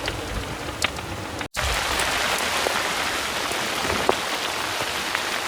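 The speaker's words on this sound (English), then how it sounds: "Well, we're getting a bit of rain at the moment." Steady rain pours down at Tangalooma, Queensland, a dense continuous hiss of drops striking a surface, briefly cut off once before resuming.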